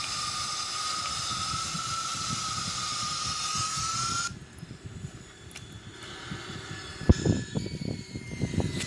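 An Airbus A340-313X on its landing roll with thrust reversers deployed, a loud steady roaring hiss with a whine that cuts off abruptly partway, leaving quieter rumble and knocks.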